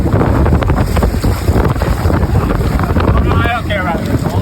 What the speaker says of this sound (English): That wind makes it sketchy.